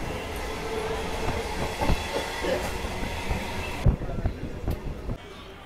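A train pulls into Sealdah railway station, rolling wheels clattering steadily with rhythmic clicks and rail thumps, the noise dropping as it slows near the end.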